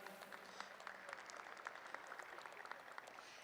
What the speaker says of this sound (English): Let's give these exhibitors a nice round of applause one more time.